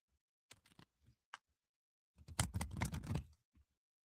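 Playing cards being shuffled in a quiet room: a few light taps and flicks, then a dense, close riffling burst lasting about a second, followed by a faint final tap.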